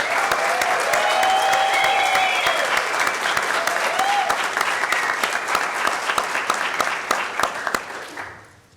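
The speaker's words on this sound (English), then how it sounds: "Let's give that full group one more big round of applause." Big round of applause from a ceremony audience at a police swearing-in, loud, dense and sustained for about eight seconds before tapering off at the end.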